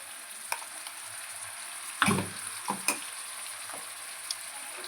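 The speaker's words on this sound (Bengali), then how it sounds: "আমি এখানে আদা রসুন পেস্ট দিচ্ছি।" Ginger garlic paste frying in a kadai with boiled jackfruit and potato for an echorer torkari, a low steady sizzle broken by several louder scraping stirs and clatters close by, with no talking.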